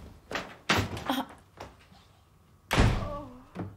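Loud banging on a door in a scene from the Harry Potter film, several heavy thuds in bursts with short gaps, close and forceful.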